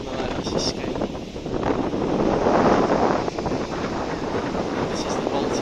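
Strong wind buffets the microphone in loud rumbling gusts on the coast at Skagen, Denmark, swelling in the middle and easing off, with no voices.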